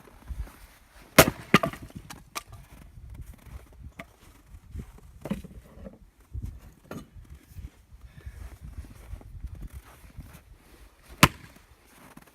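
Oak wood being chopped or split gives off scattered, faint cracks and splintering snaps. A few sharper knocks stand out over quiet, rustling handling noise, fairly soft and close.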